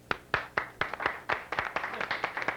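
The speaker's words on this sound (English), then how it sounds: "Let's give a big round of applause and hearty congratulations to Milliken High School" An audience claps for a winning high school team at a 1992 school competition, with steady distinct hand claps coming at a brisk rhythm, fairly faint and without voices.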